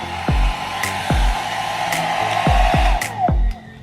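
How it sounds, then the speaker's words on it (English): A Funtin travel-size hair dryer blows a steady, loud stream of air. Several short low thumps and clicks break in as the settings are switched. "it's a perfect travel size air dryer"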